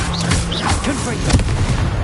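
A Confringo blasting spell goes off in Hogwarts Legacy, a short booming burst in the middle of dense, busy game sound, with a faint voice-like tone behind it.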